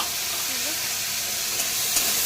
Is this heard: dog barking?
no